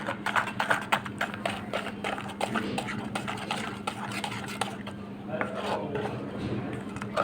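Vegetables coated in mustard oil and cumin powder are mixed by hand, giving close, rapid wet rubbing and light tapping against the bowl in a quick uneven rhythm, with a voice speaking at times.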